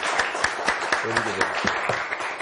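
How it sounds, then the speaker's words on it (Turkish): A studio audience on the Turkish TV game show Kelime Oyunu applauds, dense clapping throughout, with a voice speaking over it partway through. "Bir kuvvetli alkışlayalım ne olur."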